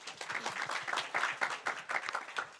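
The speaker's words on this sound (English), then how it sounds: "Ladies and gentlemen, please give him a round of applause." A room of forum attendees applauds a guest speaker from a medical school, brisk clapping with audible individual claps pulsing at a lively, uneven rhythm for a short burst.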